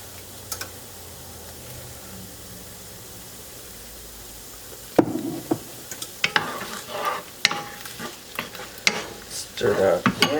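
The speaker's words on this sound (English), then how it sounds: "Stir that in." Tomato sauce is stirred into onions frying in a pan, with scraping clinks and wet stirring strokes over a soft sizzle, growing busier and more frequent after a quiet start.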